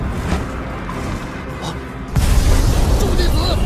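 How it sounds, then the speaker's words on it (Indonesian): A sudden loud boom bursts in partway through, followed by a sustained rumbling roar over a busy, dense background. "ledakan mengejutkan akhirnya terdengar di depan mata sejumlah orang yang tak terhitung jumlahnya"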